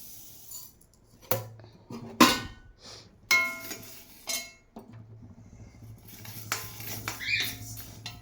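Ingredients for idli podi roasting in an iron pan, stirred with metal scrapes and clanks that come in irregular bursts, some sharp and loud, over a low background hum with no talking.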